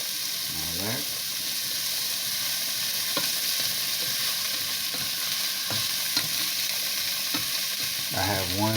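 Onions, carrots and celery sauté in a pot for chicken and dumpling soup, giving an even, loud sizzle with occasional stirring knocks and a voice speaking briefly at the start and end.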